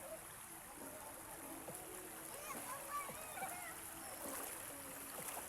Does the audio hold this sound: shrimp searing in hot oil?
no